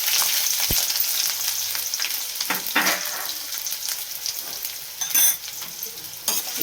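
Sliced onions and green chillies fry loudly in hot oil in a pan for a Chennai-style vada curry, a dense continuous sizzle broken by a few scraping stirs.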